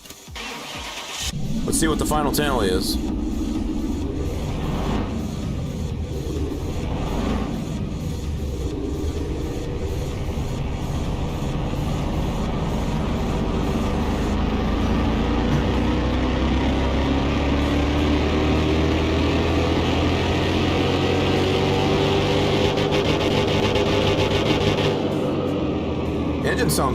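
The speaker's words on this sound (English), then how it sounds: "Engine sounds good." A car engine in Car Mechanic Simulator 2021 starts with a fully rebuilt engine, then runs loudly and steadily with rising revs and a continuous drone throughout, while someone talks over it.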